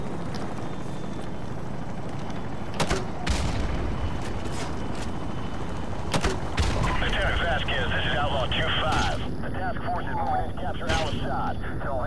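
Scattered sharp gunshots and bursts of game gunfire from Call of Duty: Modern Warfare Remastered crack through constant background noise, with someone talking over much of it.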